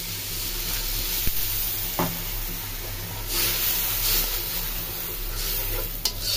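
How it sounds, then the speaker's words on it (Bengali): Fried spice paste sizzles loudly in a pan as water goes in from a ladle, a steady hissing fry with a few sharp knocks and surges of steam, close and continuous. "বেলটাকে দিয়ে একটু পানি দিয়ে দিই।"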